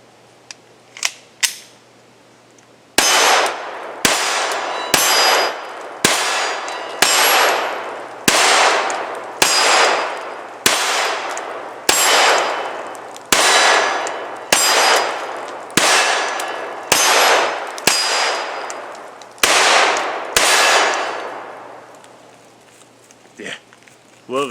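Taurus TX22 pistol fired at steel targets outdoors, roughly fifteen sharp loud shots in a steady rhythm, each followed by a ringing metallic decay, after a few quieter clicks at the start.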